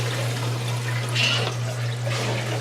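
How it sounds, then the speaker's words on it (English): Water rushes steadily through newly installed water softener plumbing, a continuous close hiss that swells briefly midway over a low mains hum. "you hear a lot of running water, but so far there's no leaks"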